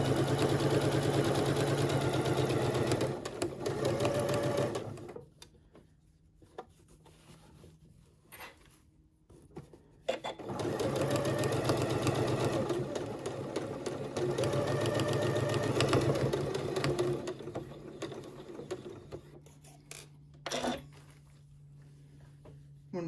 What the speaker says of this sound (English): stitch down the side of my 2 fabrics, making sure that the raw edges are aligned